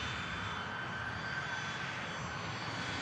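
An ATR 72-600 turboprop being pushed back at Manchester Airport gives off a steady, loud engine drone with a whining tone. It holds constant throughout and is heard without voices.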